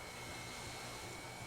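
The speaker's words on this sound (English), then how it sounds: "the maid is mucking out the stalls with a vacuum cleaner" Low, steady mechanical whir of a vacuum cleaner in The Sims 4, used by a maid cleaning horse stalls, a faint continuous drone with no talk.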